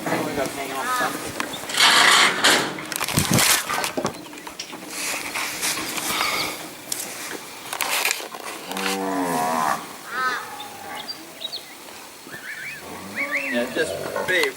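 Weaner cattle in force pens moo repeatedly, several loud, drawn-out calls scattered across the scene, mixed with rattling pen noise and people talking nearby.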